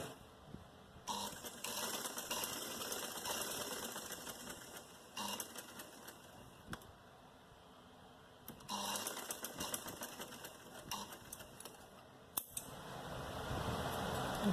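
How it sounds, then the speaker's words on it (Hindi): Sewing machine stitching fabric for a long party-wear sleeve, running in steady rhythmic bursts with brief pauses between, close and fairly loud with no talk. "अब यहाँ पे सिलाई करने के बाद जो ये हिस्सा है इस पे भी हम सिलाई कर लेंगे इस तरीके से"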